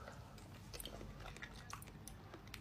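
Close, crunchy biting and chewing of food while it is tasted, with quiet, irregular mouth sounds and no voices.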